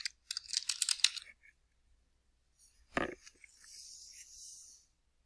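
A quick burst of keystrokes on a laptop keyboard during word-processing work, close and crisp, followed by a single louder thump and a soft fading hiss.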